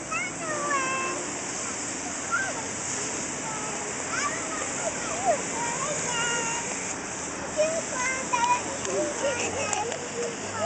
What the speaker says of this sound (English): She loves water and sprinklers.